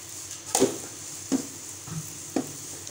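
Puri frying in hot oil in a pan, a low sizzle under several distinct clanks and scrapes of a utensil turning the bread, up close with no speech.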